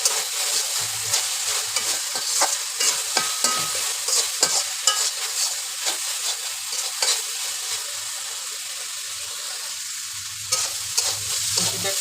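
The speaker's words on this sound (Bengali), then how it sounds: "শুটকি পানি আটায় গেছে, আমি এখন কিছুক্ষণ কষাই নেবো ভালো করে" Dried shrimp stir-fried in a pan, a steady close sizzle with repeated scraping and stirring strokes of a spatula running throughout, no voices.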